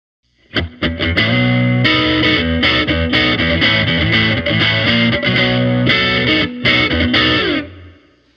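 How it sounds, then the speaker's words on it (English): PRS Swamp Ash Special electric guitar through a Tube Screamer overdrive pedal, warm overdriven tone, plays a lively riff of chords and single notes, loud and up close, ending on a sustained chord. "when you add the pedal, like a Tube Screamer,"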